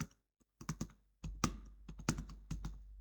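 Typing on a computer keyboard while entering data in an Excel spreadsheet: a few scattered, quiet, close key taps, then a denser run of clicks with short pauses between bursts.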